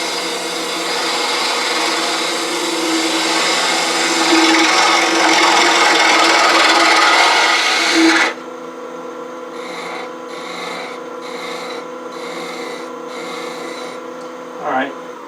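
A 1/2 inch hollowing tool with a bigger handle cuts into a spinning wooden box blank on a lathe, a loud continuous rasping scrape for about eight seconds, then a quieter whirring hum with faint intermittent pulses.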